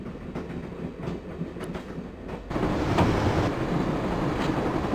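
Train rumble with rhythmic clickety-clack, steady and close, growing louder and fuller halfway through as if a door or window opened onto the moving railcar.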